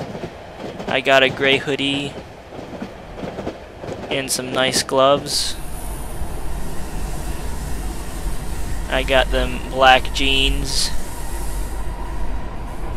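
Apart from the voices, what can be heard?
train moving at moderate speed in video game Cry of Fear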